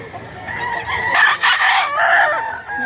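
A rooster crows once, loud and near, its drawn-out call rising and falling over quiet surroundings.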